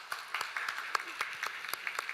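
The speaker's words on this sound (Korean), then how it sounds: "우리 축하 박수 하도록 하겠습니다" Scattered applause from a church congregation during a Sunday service, individual claps sparse and irregular rather than a full ovation, fairly quiet and short.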